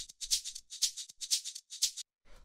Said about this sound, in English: After that, we have the shakers, which sound like this.